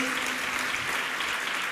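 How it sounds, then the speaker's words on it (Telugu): A church congregation breaks into clapping, a dense, steady wash of many hands filling the room, loud and unbroken with no clear individual claps. "మీకు సంతోషం ఉంటే ఒకసారి చప్పట్లు కూడా తెలుసు"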